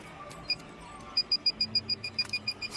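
Metal detector searching a ruined old house, giving a rapid string of short, faint electronic beeps after one early chirp, over a hiss of quiet background noise.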